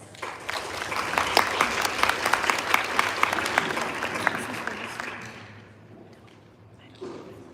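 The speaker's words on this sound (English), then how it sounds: "Let's give them a round of applause." Audience applause fills a school board meeting room, a steady round of clapping that fades out after about five seconds, followed by a brief voice near the end.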